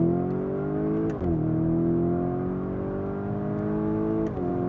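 A Lamborghini Urus Performante pulls hard out of second gear from about 60 km/h, its engine droning loudly and steadily climbing in pitch inside the cabin, broken by two brief upshifts.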